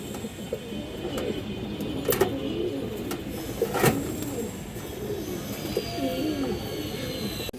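Pigeons coo softly at close range in a home loft, with low repeated burbling calls and a few sharp clicks and knocks of birds moving about.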